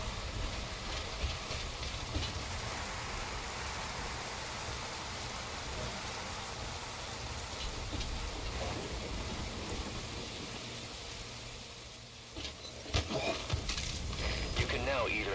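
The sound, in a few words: rain falling, from the video game Metal Gear Solid V: Ground Zeroes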